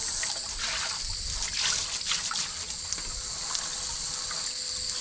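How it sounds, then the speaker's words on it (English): Steady water spray rinses gunk and grime from a pool cartridge filter, a continuous close hiss with small splashing fluctuations and no talking. "Give it a good rinsing, get all that gunk and grime out of there."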